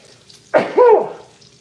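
One close, sharp human sneeze in a kitchen while pancake mix is being measured, a quick intake then a loud burst, with faint background noise around it.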